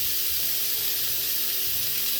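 Steady loud sizzling of steak searing on a hot grill, a continuous crackling hiss with a faint low hum underneath.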